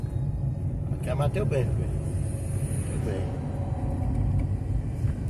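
Steady low road rumble of São Paulo avenue traffic heard from inside a car, with someone talking over it throughout.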